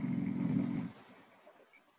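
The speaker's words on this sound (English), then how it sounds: "He's snoring." A person snoring close by: a loud, low rumbling inhale that fades into a quieter exhale within about two seconds.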